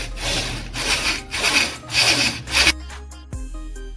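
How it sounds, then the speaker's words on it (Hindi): Sandpaper rubs against a small gear on a sewing machine as the machine is turned by hand, a series of rhythmic abrasive strokes, loud and close, before stopping with a few faint clicks. "हम छोटी वाली गरारी के ऊपर भी रेगमाल लगाएंगे और मशीन को ऐसे ही घुमाएंगे"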